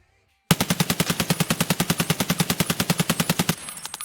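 An RD rifle firing BP ammunition in the game Escape From Tarkov: a sudden sustained full-auto burst of about thirty rapid, evenly spaced shots lasting around three seconds, loud and close, then a brief clattering tail.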